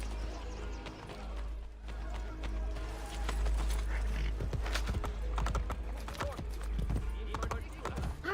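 A horse gallops in the Assassin's Creed Brotherhood video game, with steady, loud hoofbeats running close throughout under a constant low rumble.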